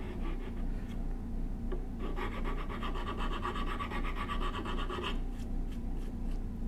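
A rasp filing coves in wood on a turning bow saw project, steady rhythmic scraping strokes that grow brighter and harsher midway, close up over a low background hum, no talk.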